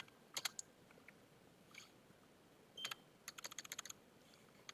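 Keystrokes on a computer keyboard while entering a Linux command in Ubuntu: short bursts of crisp clicks, one quick run of several rapid taps near the end, quiet and close with no talk.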